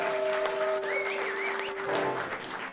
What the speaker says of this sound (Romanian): să aud niște aplauze